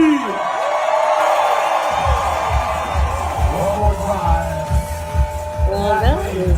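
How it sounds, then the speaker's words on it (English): A crowd at an Ironman triathlon finish screams together on cue, a loud sustained roar that tails off into cheering and whoops, with amplified voices and music underneath. "On three, everybody scream."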